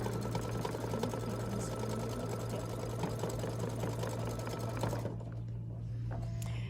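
An embroidery sewing machine stitches a Kimberbell bench pillow, giving a steady, close mechanical whir with rapid needle ticking that runs evenly and then drops away sharply near the end.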